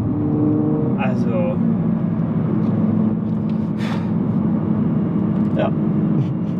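A Nissan car's engine drones steadily at low pitch throughout while driving, with faint rises in revs and brief higher noises, mostly under occasional background voices.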